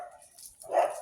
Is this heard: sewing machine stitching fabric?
no